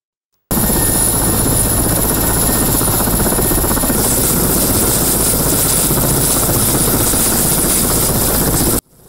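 A helicopter delivering an obelisk to a burial site in the Russian North, its rotor chop and engine drone loud and steady throughout, with no speech.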